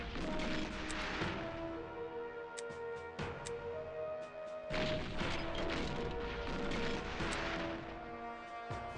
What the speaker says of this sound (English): Going to get face full of artillery fire.